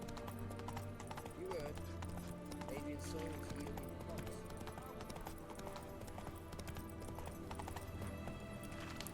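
Horse hooves clip-clop steadily in The Witcher 3 as a horse runs along a path, with game music and a voice talking over the hoofbeats.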